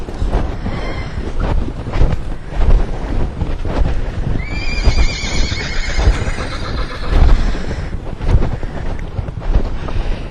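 A bucking horse gives a loud, wavering neigh in the middle, with hoof clatter and gusty wind noise throughout.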